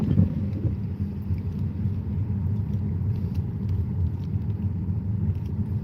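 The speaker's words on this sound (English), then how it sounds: "Yeah, this car's gonna pass us." A car on a dark road at night passes with a steady low rumble of engine and tires, fairly close and continuous throughout, with no voices.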